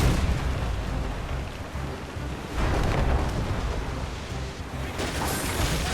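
A warship firing on the enemy during a naval battle, with continuous heavy rumbling booms and explosions layered into a loud, dense roar that swells in several blasts.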